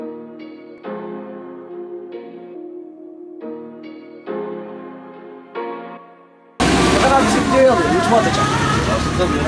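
Inside a moving intercity bus near Bolu, Turkey: after a stretch of music, a loud steady drone of engine and road noise takes over with voices in the cabin.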